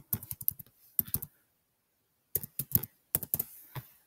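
Someone types a username on a computer keyboard, close by. Quick bursts of clicking keystrokes are split by a long pause, then a second run of typing follows, with no voices.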